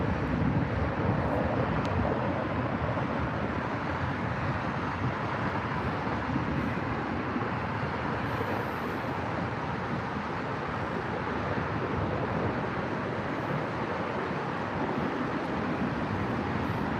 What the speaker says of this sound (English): United 767 off to New York